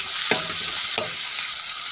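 Onions with turmeric fry in oil for a mutton curry, giving a loud, continuous close sizzle broken by two sharp scrapes or stirs of a spoon against the pan.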